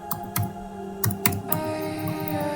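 Keys tapped on a computer keyboard while typing a short greeting into a new text document, a quick run of close, crisp clicks with a few sharper strokes, over a faint electrical hum.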